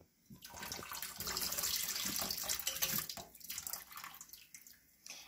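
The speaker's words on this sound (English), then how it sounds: "Now it is time to carefully pour out the vinegar." Vinegar is poured carefully out of a glass jar holding an egg, giving a steady, close trickling splash that lasts several seconds before tapering into a few drips.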